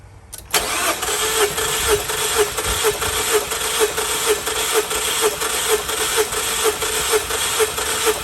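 A car engine with a misfire cranks over on the starter after a brief quiet start, a loud, close, steady rhythmic chug of evenly spaced pulses lasting several seconds without catching. No voices.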